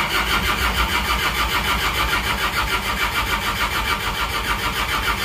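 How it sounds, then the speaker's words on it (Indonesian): Diesel engine of a Toyota Kijang, just rebuilt, cranking and catching, then running steadily close by with a loud, even mechanical clatter and no voices. "Coba kita starter."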